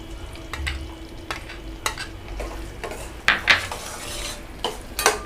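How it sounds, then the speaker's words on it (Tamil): Cardamom, roasted gram and coconut stirred together in a pan for aval pori, with close, intermittent scraping and clinking of a spoon against metal and no talking. "இதான் இப்போ வந்து கூடவே ஏலக்காய், அதாவது பொட்டுக்கடலை, தேங்காய் இதையும் நம்ம மிக்ஸ் பண்ணிக்கலாம்."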